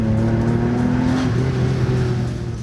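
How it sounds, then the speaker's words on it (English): A car's 3-litre V6 with chrome exhaust pipes runs at a steady, even drone, loud and close, with its pitch easing slightly toward the end. "That V6 3-litre engine with those beautiful chrome pipes on it."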